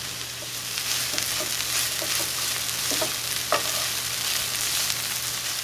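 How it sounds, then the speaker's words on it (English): Frozen vegetables and pre-cooked potatoes fry in a pan over medium-low heat for baked burritos, a steady close sizzle with occasional stirring clicks and scrapes, no voices. "I'm going to continue to cook this on a medium-low heat for about 3 minutes, only because I'm using the frozen veggies."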